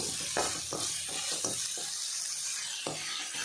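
Beans and carrots for prawn fried rice stir-fried in a pan, giving a steady sizzle with a few sharp scraping strokes of a spatula in the first half, then a quieter sizzle with one more stroke near the end.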